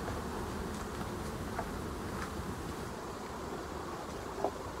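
Honey bees buzz inside a hive super of a split colony in an apiary, a faint, steady, dense hum with a few individual bees briefly passing closer, and no talking.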